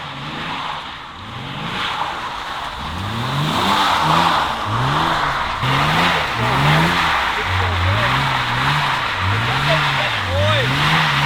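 A bone-stock BMW E36 M3 drifts on a wet road in the rain, engine revving in repeated rising and falling surges as the tires skid and hiss, close and loud, with voices talking over it.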